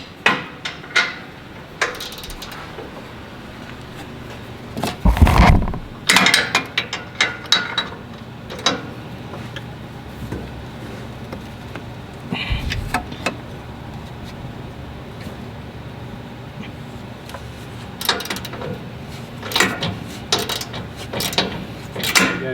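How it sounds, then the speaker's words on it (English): Metallic ratcheting and clicking of a tool loosening a nut on a Toyota Tacoma bumper bracket, with clanks, knocks and a couple of louder thumps spread through the stretch, close by and with no talking. "We'll remove that nut, and then we can get the bracket in there."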